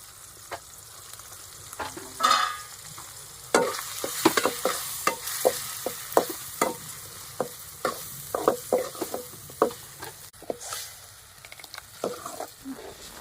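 Tomatoes and spices frying in hot oil for a fish curry, a close sizzle with repeated rhythmic scraping stirs in an irregular beat, with no talking.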